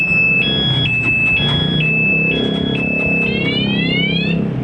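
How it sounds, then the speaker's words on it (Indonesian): A Honda Supra GTR 150 motorcycle's remote alarm blares loudly with repeating two-tone electronic beeps, then shifts into a rising whooping siren, over a low engine-like hum. "Alarm bunyi."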